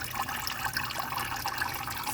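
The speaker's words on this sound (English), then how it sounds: "When I lift this up, it's draining." Water draining and trickling out of a lifted bucket of soaking fodder seeds, a steady, close splashing flow that runs continuously with no talk over it.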